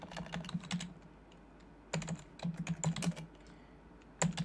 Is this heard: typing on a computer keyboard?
yes